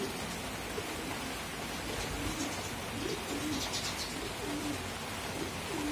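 Racing pigeons coo in soft, low repeated phrases, faint beneath a steady hiss of background noise.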